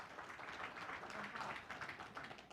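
Brief round of audience applause at an Indonesian religious talk, a dense patter of many hands clapping with a faint murmur of voices mixed in.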